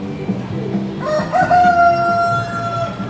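At a chicken show in Bang Khae, a rooster crows once, a drawn-out call rising over steady crowd murmur and background talk.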